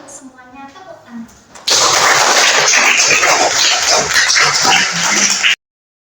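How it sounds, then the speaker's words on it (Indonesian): After a brief spoken line, a room of people breaks into loud, dense applause at the close of a coaching session, clapping held at full strength for about four seconds before stopping abruptly. "Tepuk tangan."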